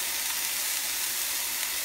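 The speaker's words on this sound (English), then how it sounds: "You need to hear a good sizzle." Steady, dense sizzling hiss of meat frying in a hot pan, continuous and close, with no talking over it.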